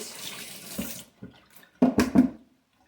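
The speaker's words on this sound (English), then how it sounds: "1/4 cup of water." Water is poured, a quarter cup for oatmeal raisin cookie dough, heard as a soft running splash followed by a few short louder gurgles and spills before it stops, close and fairly quiet.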